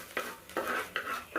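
Onions fry in a large, heavy pan, with four evenly spaced scraping stirs of a utensil over a faint sizzle, close and alone.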